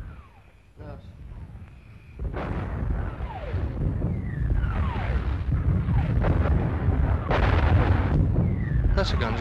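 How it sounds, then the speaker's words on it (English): Artillery guns of the Second Army boom from far away in a wartime setting, a continuous rumble of distant thuds and blasts under people talking nearby. "That's the guns of the Second Army."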